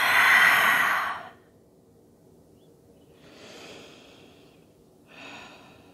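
A long, breathy exhale through the mouth during a yoga session, loud and close, followed by two softer breaths, with quiet pauses between them.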